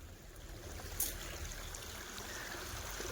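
Steady rushing mountain water flows continuously nearby, a broad even wash of sound with a small splash near the start.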